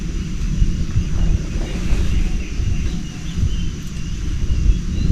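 Wind buffets the microphone outdoors at a campsite on a warm evening before rain, a steady low rumble with gusty swells and no talk.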